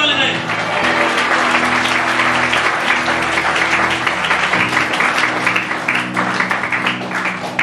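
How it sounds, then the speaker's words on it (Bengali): A church congregation applauds loudly for the Lord, a dense, sustained burst of many hands clapping for several seconds, with a low hum or music bed underneath. "প্রভু জন্য জোরে করতালি দেন।"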